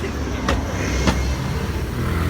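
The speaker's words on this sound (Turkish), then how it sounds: "Otobüs geçti." A bus rumbles past on a city street, a steady low engine drone with a couple of brief brighter swishes, close and fairly loud against general traffic noise.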